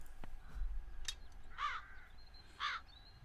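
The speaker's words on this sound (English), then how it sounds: "I think our only job is to get rid of the crows" Crows in a video game give a few harsh caws, two clear calls spaced about a second apart after some brief clicks, over a quiet background.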